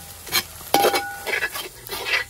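Curry being stirred in a pan at home, with a few soft scraping and sizzling strokes and a brief clink, close and alone without talk.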